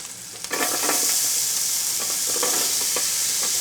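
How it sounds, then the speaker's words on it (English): Onions and a few shallots added to a hot pan, a soft start jumping into a loud, steady sizzle with faint stirring clicks. "we're gonna go ahead and put in the onions, the top part of my mise en place"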